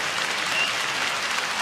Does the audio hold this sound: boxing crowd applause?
yes